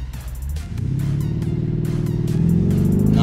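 A Lamborghini Urus or Mercedes-AMG GLC63S SUV launches in a drag race, its engine rising into a loud, sustained growling roar that builds steadily over a few seconds, heard from inside the vehicle with no talk.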